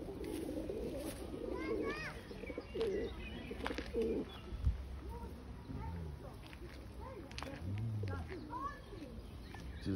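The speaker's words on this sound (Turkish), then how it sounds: "Kuşlara bak, pigoyum." Several pigeons coo in soft, repeated throaty phrases close by, with brief chirps from other birds and people talking nearby throughout.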